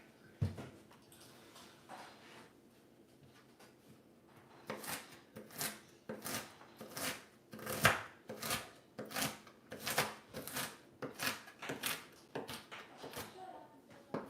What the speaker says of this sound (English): If any of you guys like the sound of this chopping right now